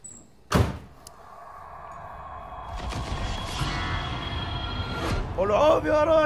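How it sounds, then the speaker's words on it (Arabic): A door is pushed shut with a sharp thud near the start, followed by a steady background hum and voices talking nearby in an indoor setting. "سكر الباب."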